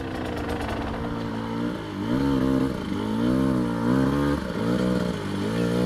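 A dirt bike on a trail revs repeatedly, its engine rising and falling in several loud throttle surges close to the microphone, with no voices.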